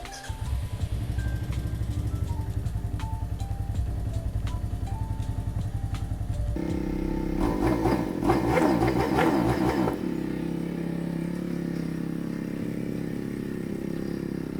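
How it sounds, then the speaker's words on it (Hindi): Motorcycle engine starting after sitting unused for 15 days at home, then idling steadily with a brief burst of revving in the middle, close and continuous with no talk. "तो अब करते हैं बाइक स्टार्ट"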